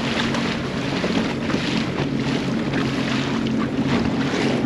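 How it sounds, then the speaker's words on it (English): Choppy water slaps and washes around a Sea-Doo personal watercraft near a waterfront boat ramp, a steady close rush of water mixed with gusty wind buffeting the microphone, with no one talking. "Water's gone a little choppy here, as you can tell."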